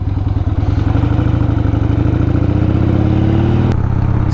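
Harley motorcycle engine under way, a loud, close, steady throbbing drone whose pitch climbs smoothly as it accelerates, continuous for the whole stretch.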